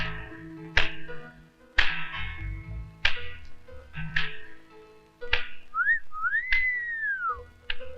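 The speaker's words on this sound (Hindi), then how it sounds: "वाह, कितनी सुरीली सीटी थी।" Someone whistles a melodic tune in a Hindi comedy film scene, the clear rising and falling notes mixed with sharp taps and slaps, fairly soft and with no speech.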